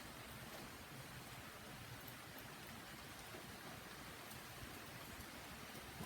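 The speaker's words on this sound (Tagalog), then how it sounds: "maulan ngayong araw na to" Steady rain falls on a rainy morning at home, a soft continuous hiss of drops on surfaces with no breaks, faint and even throughout.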